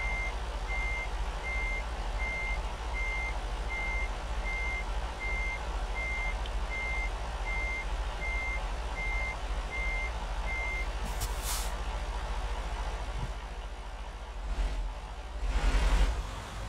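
A truck in American Truck Simulator backs up at night, its reversing alarm beeping in a steady even series over a low engine rumble, with air brake hisses and a brief burst of engine noise near the end.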